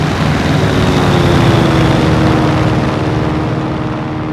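A P-47D Thunderbolt's radial engine drones as a loud, steady, close propeller roar in the IL-2 flight game, holding constant for the whole stretch.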